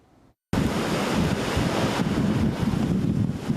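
Huge waves and strong wind lash Fugang fishing harbor in Taitung during a typhoon, with a loud, continuous roar of surf and wind buffeting the microphone after a brief quiet start.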